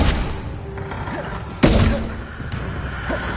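A Bombarda blast spell in Hogwarts Legacy strikes with a single sharp, heavy thud midway, rising out of a low ambient game background, then decaying with a short rumble.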